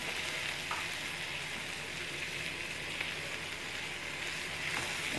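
Green peppers frying and being stirred in a pan while cooking meat, heard as a soft, even, continuous sizzle at low level with faint clicks and no talking.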